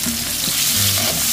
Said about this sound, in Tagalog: Ilagay na po natin yung ating bawang, sibuyas, saka luya.